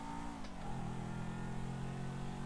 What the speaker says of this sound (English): So this is one of the sports cars that we have been given to choose from.